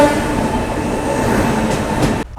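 Garib Rath Express train on the New Delhi to Ranchi run, a loud continuous rumble and roar of the moving train that cuts off abruptly near the end.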